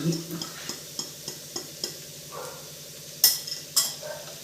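Curry leaves and spices sizzling in a hot pan with chopped onion, a soft frying hiss under a regular tapping of a spoon or spatula against the pan, with a couple of sharper clinks near the end.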